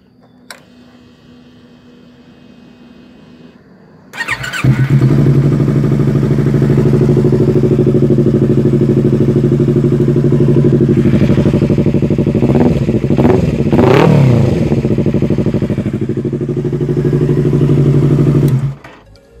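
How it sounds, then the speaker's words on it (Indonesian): A Yamaha R25 sport motorcycle fitted with a WRX silencer and Pro Liner header starts after a few quiet seconds, then idles loudly and steadily with a couple of quick throttle blips before cutting off. "Kita dengarkan dulu suara dari motor R25 ini."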